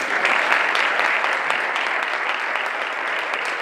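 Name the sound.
audience applause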